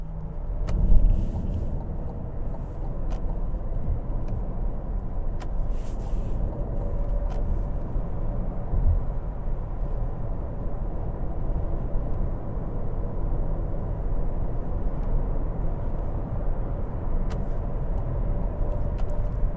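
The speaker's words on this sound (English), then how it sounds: "we're going to spend a brief portion of this test drive on the highway, see what highway speeds are like" Steady road and wind rumble inside a 2023 Cadillac Lyriq electric SUV cruising at highway speed, a continuous broadband drone with no engine note and a few faint clicks, no talking.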